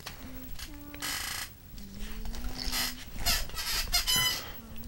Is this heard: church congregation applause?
no